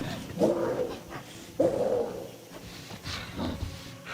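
Dog barks and whimpers in the horror video game The Quarry, a few short yelping bursts spaced across the moment at moderate loudness, with faint background ambience between them.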